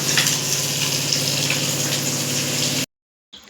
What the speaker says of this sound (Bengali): এখানে এই যে মাছ ভাজা বসিয়ে দিয়েছি